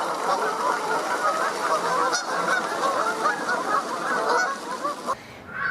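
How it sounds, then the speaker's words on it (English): A dense flock of geese honks continuously in a Twilight Zone TV episode, with many overlapping calls forming a loud, steady clamor that cuts off abruptly near the end. "And we hear the geese"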